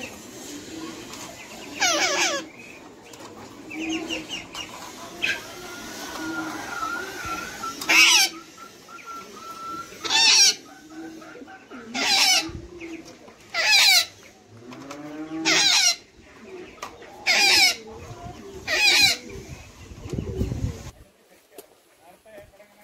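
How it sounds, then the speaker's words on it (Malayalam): A noisy parrot in a cage beside a pigeon coop lets out a series of sharp, loud, repeated squawks in the second half, each a short burst with pauses between, after a stretch of talking and faint animal sounds. "ഈ പ്രാവിൻ്റെ കൂടിന് തൊട്ടടുത്ത് തന്നെ ഒരു ഇതുണ്ട്, തത്തയുടെ കൂടുണ്ട്. ഭയങ്കര സൗണ്ടാണ് തത്ത,"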